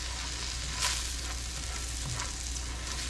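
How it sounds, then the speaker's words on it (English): Basil and garlic fry in a pan for artichoke chicken, giving a constant close sizzle with occasional spoon scrapes and brief crackling bursts, and no voices. "So now we're going to stir constantly for 1 minute."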